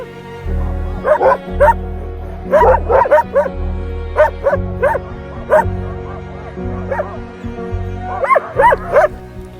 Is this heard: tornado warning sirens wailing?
no